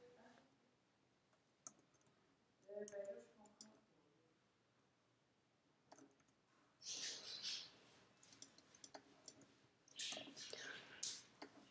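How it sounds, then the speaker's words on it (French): Pet parakeets chirp and twitter softly in the background, in scattered bursts, alongside faint clicks and quiet whispered talk. "C'est mes oiseaux, c'est des perruches."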